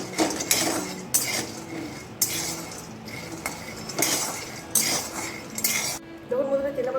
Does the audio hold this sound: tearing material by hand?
no